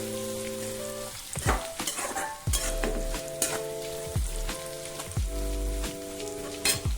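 Chopped dates are added to a hot frying pan and stirred, giving a continuous sizzle broken by repeated sharp scraping strokes of a spatula against the pan.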